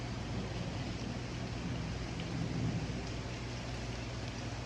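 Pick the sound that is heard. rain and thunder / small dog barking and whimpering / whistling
rain and thunder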